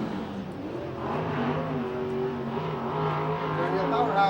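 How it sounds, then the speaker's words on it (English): A sprint race car with an Ellis chassis and a Pro Flyer engine drones steadily on a Hanford, California dirt oval during a USAC/CRA event, the engine note rising slightly. An announcer talks over it throughout. "ohnson, the youngster from Phoenix, Arizona, in the Ellis chassis, Pro Flyer engine. Here he comes to the stripe for his second lap."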